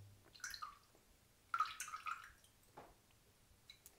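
Water drips and splashes off a wet shaving brush as it is shaken over a bowl, two short bursts of close, quiet spattering followed by a faint drip.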